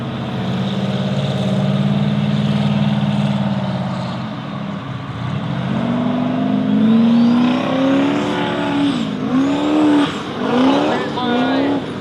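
Formula offroad race cars accelerate at a Norway championship round on the KNA Telemark track, their engines droning loud and steady before rising into climbing revs, with a commentator talking over the noise.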